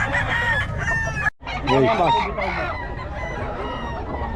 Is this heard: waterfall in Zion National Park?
no